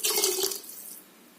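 Water poured into a pressure cooker holding rice-flour pidi, a short close splash and gurgle that fades within a second.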